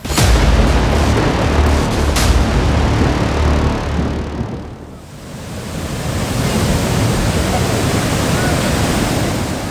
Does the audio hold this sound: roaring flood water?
yes